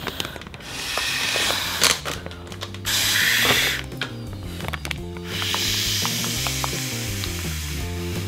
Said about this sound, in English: I'm just gonna suck all the air out with the straw